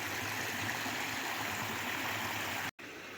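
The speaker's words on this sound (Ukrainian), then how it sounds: "Вода якраз тече з вершини" A mountain stream runs down from the peak near a deep swimming spot, a steady, loud, close rush of flowing water that cuts out briefly near the end before resuming.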